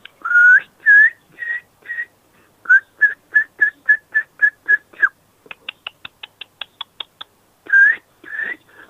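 A person whistles in imitation of nightingale song: rhythmic series of clear, repeated whistled notes, then a rapid run of short staccato chirps and a few final warbled phrases, close and alone.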